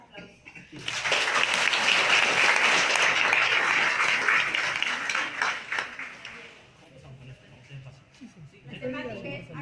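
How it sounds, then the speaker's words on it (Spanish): Audience at a constitutional procedural law course session breaking into strong applause: dense, sustained clapping for about five seconds that then thins out and fades, followed by a voice starting to speak. "pido fuertes aplausos"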